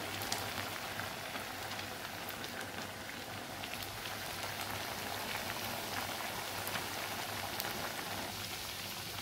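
Sabudana vada deep frying in oil over a low gas flame, a dense, steady sizzle like light rain with scattered tiny pops, continuous and close without speech.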